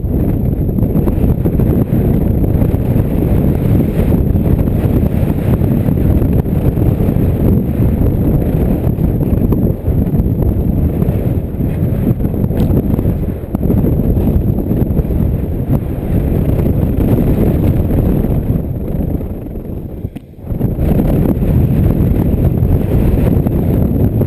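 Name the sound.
wind on a fire tower during an ATV trail ride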